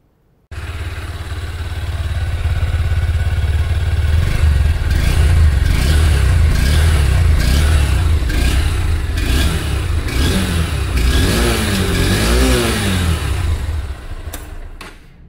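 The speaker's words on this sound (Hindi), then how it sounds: "एक बार मैं आपको इस बाइक का एग्जॉस्ट भी सुना देता हूँ" A 2024 Honda Hornet 2.0 motorcycle engine starts and revs repeatedly close by, the exhaust rising and falling in bursts over a steady rumble.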